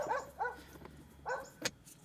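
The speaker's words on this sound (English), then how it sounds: "Sorry for the dog in the background" A dog barks three times in quick, fairly faint bursts, followed by a sharp click, with quiet background hum.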